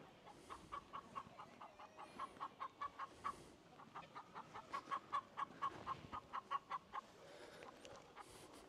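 Chickens cluck near a hen wagon in the Swedish countryside at Kivik, a steady run of short, repeated clucks at moderate distance over an outdoor background, with no talking.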